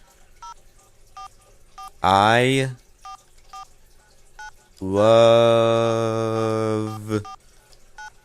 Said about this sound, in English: so I typed it on my phone.